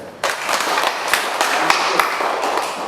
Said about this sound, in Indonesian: Ya, tepuk tangan Benja.